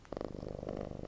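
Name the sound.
cat purring loudly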